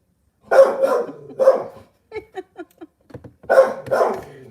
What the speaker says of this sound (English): That's why he's barking at the truck, because he does not like trucks.